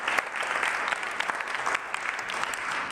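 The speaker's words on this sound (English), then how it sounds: "Clap it up for Natalie." A crowd claps for Natalie at a speaking event at the W Hotel in Union Square, New York, with steady, fairly loud applause from many hands and a few sharper individual claps standing out.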